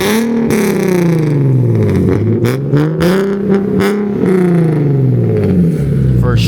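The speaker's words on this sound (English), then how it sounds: "Rev it one more time." An Infiniti car engine, freshly fitted with new spark plugs, revs repeatedly close up, its pitch rising and falling in several quick surges, with voices audible now and then between the revs.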